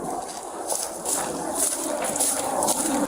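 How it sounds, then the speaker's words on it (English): A dog barks several times in an indoor hallway, the sharp, echoing barks coming in uneven bursts over a noisy background. "that dog barking in that hallway there is loud"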